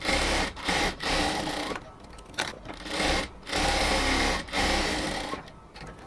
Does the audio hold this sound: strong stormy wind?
no